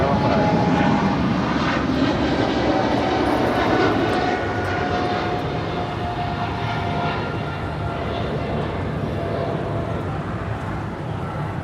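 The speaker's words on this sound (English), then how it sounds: "That is Japan Airlines Flight 15 departing to Tokyo Haneda on the 777-300ER." A Japan Airlines Boeing 777-300ER departs Los Angeles International Airport, its jet engines a loud, broad, steady roar that fades slightly as it climbs away.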